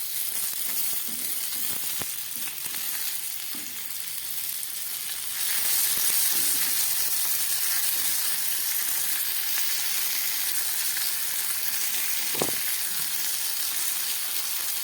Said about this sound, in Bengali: গ্যাস কমিয়ে মাছগুলো ভাজা বসিয়ে দিয়েছিলাম।